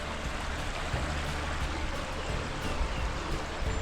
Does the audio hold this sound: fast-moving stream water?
yes